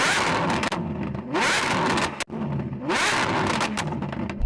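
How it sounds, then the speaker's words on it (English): Ferrari Superfast V12 exhaust revving hard in close, loud bursts: two long rising blips of the twelve-cylinder engine, each dropping off briefly between, with no talking. "The exhaust sort of speaks for itself, so let's have a listen to it."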